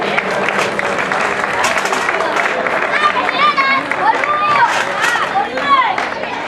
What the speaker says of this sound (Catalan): Un aplaudiment pel primer.